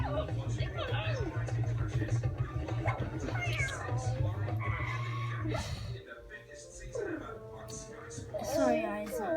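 A pet cat meows repeatedly indoors, drawn-out wavering cries close by, mixed with people talking and a steady background hum.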